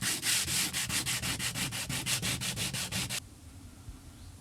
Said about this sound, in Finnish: mutta hioin paikkauskohdan vielä kerran